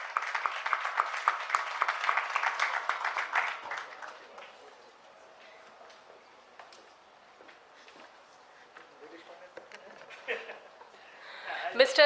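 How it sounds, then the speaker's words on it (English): Audience applause in an auditorium at an HR summit as a panel speaker is honoured, a few seconds of clapping that fades into quiet room noise, with faint movement and voices toward the end. "A big round of applause for Dr."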